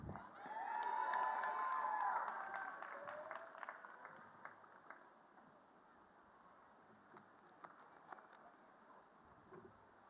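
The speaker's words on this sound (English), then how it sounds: "One more round of applause for our most impressive graduates in the class of 2025." Applause and cheering from a large crowd at a college commencement for the class of 2025, swelling loudly at first with whoops, then thinning to scattered distant clapping and faint crowd noise.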